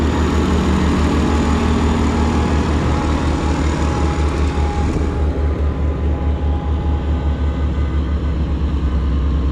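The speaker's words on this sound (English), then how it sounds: "this tractor sounds awesome" An MM 4x4 tractor engine runs at a steady idle, a continuous close, loud low rumble with an even throb that stays unchanged throughout, with no talking.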